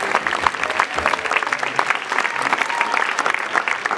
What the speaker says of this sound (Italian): Facciamo un applauso a Calogerina, che fa oggi gli anni